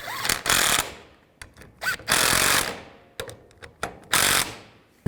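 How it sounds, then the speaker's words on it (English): A power tool drives the wiper motor bolts on a 2000-04 GMC Yukon, with three loud bursts of whirring rattle separated by short clicks and pauses. "Line those tabs up and put the bolts in. Tighten those bolts down."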